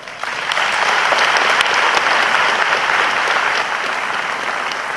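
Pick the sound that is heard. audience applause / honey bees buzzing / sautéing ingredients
audience applause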